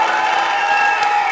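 A studio audience on a television talk show bursts into steady applause with some cheering, loud and continuous through the brief moment, a dense wash of clapping from many hands.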